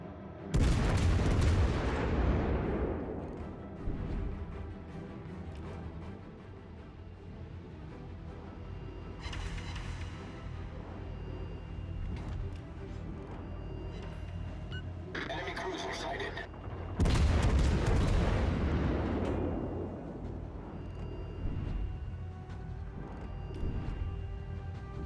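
Naval guns fire in World of Warships: Legends, with heavy booming salvos near the start and again around the middle, over continuous battle rumble and radio-style voice callouts.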